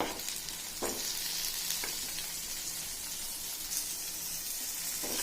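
Eggplant pieces sauté in a hot pan with salt and turmeric, giving a steady close sizzle and frying hiss with a few soft stirring scrapes and no talking.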